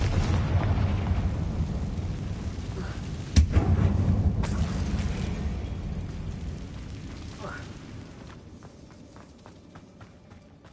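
Hogwarts Legacy on PS5, with magical spell blasts and rumbling explosions, a sharp crack near the middle and then a fading boom over continuous game noise. A voice talks over the action.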